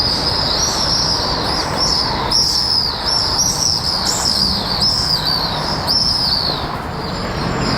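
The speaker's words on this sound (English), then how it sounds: "The birds are nice and happy." Birds sing in a small city-centre park in Irkutsk, Siberia, in spring, with repeated bright chirping phrases rising over a constant low rumble of traffic or a passing train, loud and near.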